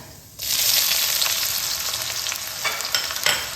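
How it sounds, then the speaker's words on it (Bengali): Cardamom, dried red chilli, bay leaf, cinnamon and cumin hit hot mustard oil with chopped onion, bursting into a loud, steady sizzle that holds with crackling spits and a few sharper pops near the end. "গরম সর্ষের তেলে ফোড়নে দিয়ে দিচ্ছি দুটো এলাচ একটা শুকনো লঙ্কা একটা তেজপাতা দুটো দারচিনি দানা আর হাফ চামচ সাদা জিরে"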